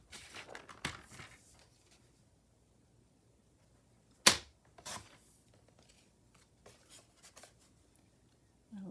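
Scissors snip paper for a lavender craft tag, a few quiet, sharp cuts and rustles close by, with one louder snap in the middle and long near-silent gaps between.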